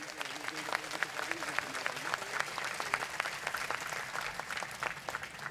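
Crowd applause at a gathering for a Jain monk, Muni Pramansagar Ji Maharaj: many hands clapping in a steady, moderately quiet patter with voices mixed in throughout.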